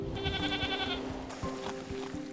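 Goats bleating in a city park where they graze down weeds, one wavering bleat standing out above a steady background murmur, fairly faint and distant.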